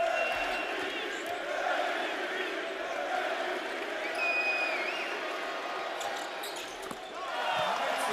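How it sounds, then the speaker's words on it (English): Arena crowd at a FIBA EuroBasket 2022 game between Israel and Serbia, roaring steadily with a broad sustained swell of noise while a commentator talks over it. "Well, the crowd heard you."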